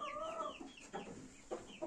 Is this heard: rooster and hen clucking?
yes